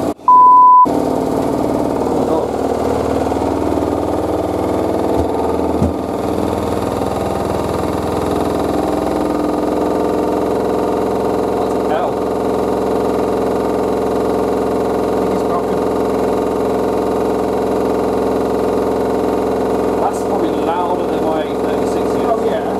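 A Hotpoint WD860G washer dryer runs with a steady low mechanical hum and faint rattling, loud and close for the whole stretch, while a few voices speak briefly over it.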